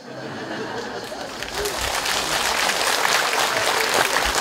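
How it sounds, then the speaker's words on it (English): Audience applause at a Buddhist talk swells after a brief quieter start, dense steady clapping with some crowd chatter and light laughter mixed in. "Why are you clapping?"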